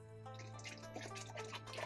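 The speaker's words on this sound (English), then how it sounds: "You can see our sauce is nice and bubbling," Hot garlic sauce for Chinese eggplant bubbling as it boils in a pan, small quick pops and burbles over a steady low hum, faint and close, with no talk.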